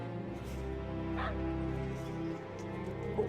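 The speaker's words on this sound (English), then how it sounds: "You silly puppy." A dog in the World of Warcraft video game barks and whimpers, small yips and whines over a continuous low game background hum, moderately loud and steady.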